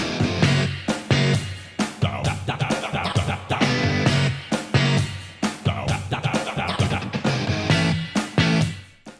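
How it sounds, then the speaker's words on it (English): An upbeat, bouncy electronic Splatoon lobby song with quirky chopped vocal sounds like mouth noises and clicks, steady rhythmic beat, loud and continuous. "this cool but really trippy song where the vocals are just wacky mouth noises"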